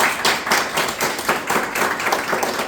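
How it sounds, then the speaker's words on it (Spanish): Applause for an author at a book event, a small audience clapping in uneven bursts that rise and fall, fairly close and moderately loud, with no talk over it. "Un gran aplauso para Krishna"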